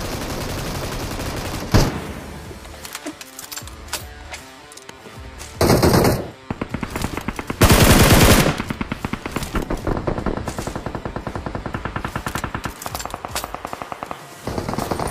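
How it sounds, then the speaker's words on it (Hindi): Rapid automatic machine-gun fire in the PUBG Mobile video game, loud close bursts and sustained volleys of sharp shots with brief pauses and a few heavier blasts, continuous throughout with no talking. "सामने से फायर साउंड आ रहा था"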